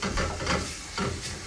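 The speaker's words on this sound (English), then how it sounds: "you can probably hear that starting to sizzle a little bit" Soft sizzling of onions frying in a pan, a steady hiss with gentle swells, close by and without voices.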